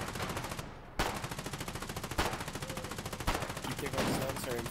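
Rapid automatic gunfire in Foxhole, a war game, during a trench push: a dense, steady rattle of shots with several louder bursts cutting through, continuous throughout.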